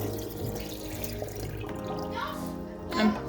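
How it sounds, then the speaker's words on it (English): Water drained from a cooking pot while making hamburger soup, a steady pouring and splashing rush into a sink that swells near the end, with a voice talking nearby. "I'm draining off the water here."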